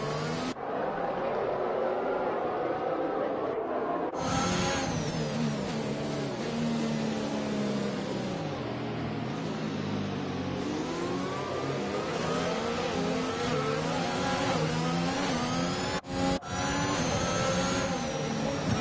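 Race cars in a racing video game rolling through a formation lap at Belgium, a continuous loud engine drone with rising and falling revs and overlapping whining tones, running steadily throughout with a brief dip near the end.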